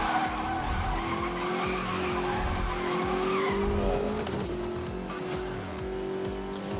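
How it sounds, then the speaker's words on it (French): Tires skid and squeal steadily as a car drifts through turns in Need for Speed Most Wanted, fitted with grip-free tires from the Terminal Velocity pack, with the engine droning loud and continuous underneath throughout. "Et avec ces pneus, il n'y a même pas besoin de freiner pour tourner, ça drifte tout seul juste en braquant les roues."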